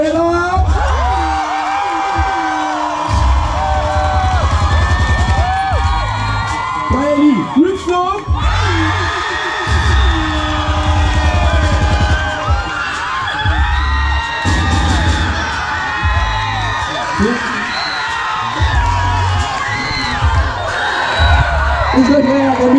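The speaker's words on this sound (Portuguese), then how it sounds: "Faz barulho pra Lorena!" A street crowd at a Brazilian passinho dance event cheers, whoops and shouts for a dancer, a loud, continuous roar of voices with an announcer's voice carrying over the noise.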